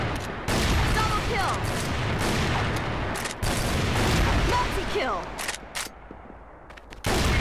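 Rapid gunfire bursts from an FR-F2 rifle in the shooter game CrossFire (Đột Kích), loud repeated shots and explosions over roughly seven seconds, with someone talking over the action.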